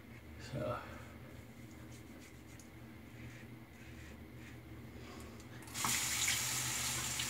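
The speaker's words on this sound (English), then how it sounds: "So let's rinse off." Tap water gushes loudly into a sink for rinsing off after a shave, bursting on near the end as a close, steady rush after quieter room noise and a brief earlier sound.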